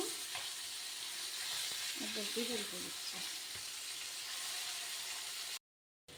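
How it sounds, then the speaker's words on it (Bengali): Pomfret fish fry in hot oil with a dense, continuous sizzle and hiss; a voice briefly speaks midway before the sound cuts off abruptly. "মাছগুলি ভাজা হয়ে গেল"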